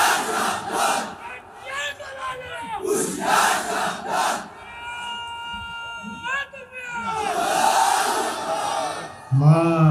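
Someone shouts a takbir loudly without a microphone at an Islamic sermon gathering, and a large crowd roars back in unison, with several rising calls and answering bursts and a voice at the very end.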